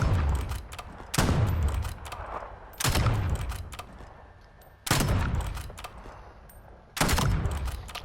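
Strider 300 gunfire in a video game, fired in four loud, sustained bursts roughly two seconds apart, with brief quieter gaps between them and no talking.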